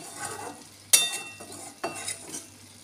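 Ridge gourd stirred in a pan just after the lid comes off, two sharp metallic scrapes of a spatula over a soft simmering hiss, fairly quiet.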